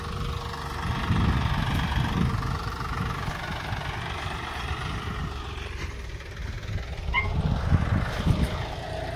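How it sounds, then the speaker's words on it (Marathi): A land-levelling tractor works a farm field, its engine giving a steady, fairly close low rumble throughout with slight swells in loudness, and no talking. "लेवलचं ट्रॅक्टर आपल्या शेतात चालू आहे."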